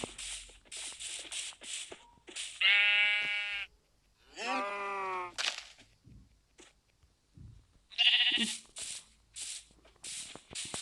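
Several bursts of Minecraft sheep bleating, wavering and fairly loud, separated by clicks and shuffling noises with quiet gaps between calls.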